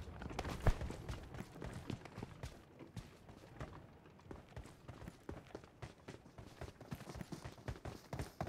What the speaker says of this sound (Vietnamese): Đây nghe tiếng chân luôn.